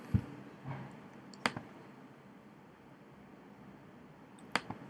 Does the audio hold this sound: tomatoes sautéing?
no